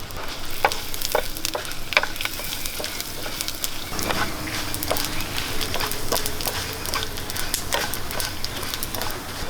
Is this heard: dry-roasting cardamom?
yes